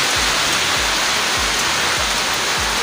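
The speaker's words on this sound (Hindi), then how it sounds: "और बाहर में बारिश हो रहा है।" Rain falls steadily outside, a dense continuous hiss with soft, regular thuds beneath it, heard alone without voices.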